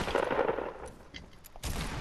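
Gunfire in the Fortnite video game, a close burst of rapid shots at the start, then quieter scattered shots and another loud burst at the end.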